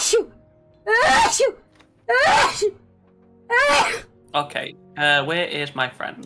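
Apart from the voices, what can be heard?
sneeze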